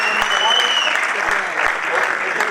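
At a Punjabi literary festival, an audience applauds a folk singer with a dense wash of clapping, while a voice speaks over it and a few sharp pops stand out.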